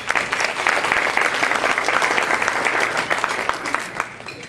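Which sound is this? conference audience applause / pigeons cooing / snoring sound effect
conference audience applause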